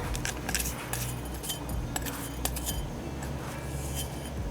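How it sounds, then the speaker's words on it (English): Metal spoon scraping and tapping in a pan as it presses a cheesecake crust flat, with light clinks and rattles repeating close by over a steady low background hum, no talking. "I'm going to use the back of a spoon to flatten it out"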